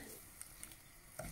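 Food sizzles and crackles steadily in a hot pan, with a few sharper pops, at a fairly quiet level and with no talk.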